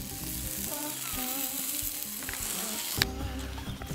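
Cod fillets sizzle in oil on a grill, a steady crackling hiss at moderate volume with faint scraping and one sharp clatter near the end, no voices.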